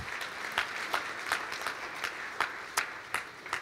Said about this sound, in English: Let's give the Lord a clap offering of faith.